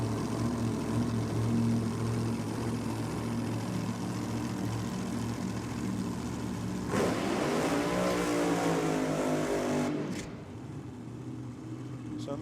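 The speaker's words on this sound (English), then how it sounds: "So a nice short, sharp burnout there for Josh Fletcher" A 372 Chev-powered HJ Coupe dragster doing a short, sharp burnout at a nitro drag racing meet: a loud, steady engine roar that rises into a revving, wavering pitch for a few seconds before cutting back near the end.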